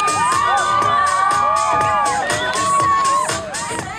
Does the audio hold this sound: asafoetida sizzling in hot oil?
no